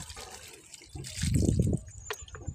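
A close, gurgling pour of water onto soil where okra seeds are sown swells in the middle of the clip, with small splashes and trickles around it and no voices.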